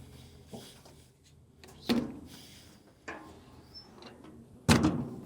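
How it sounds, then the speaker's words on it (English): A barbecue smoker door on a homemade BBQ cook shuts with a few separate knocks and clunks, the loudest coming last, fairly close, with no talking. "shut this door down"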